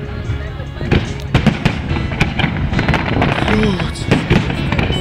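Dense fireworks at the Riga city festival crackle and pop continuously, with sharp bangs scattered throughout and a low rumble beneath; faint voices murmur in the background.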